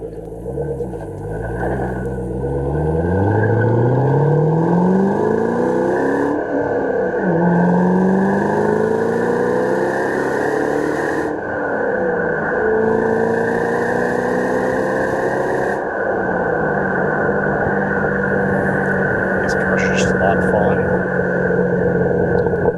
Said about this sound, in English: all you hear is the supercharger when you get in the throttle